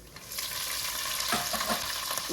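Flattened rice, peanuts, roasted gram, mustard seeds, cumin and green chilies sizzle and crackle steadily in hot oil as a tempering, with a few spoon scrapes and stirs near the end and no talking.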